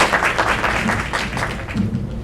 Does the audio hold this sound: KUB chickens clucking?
no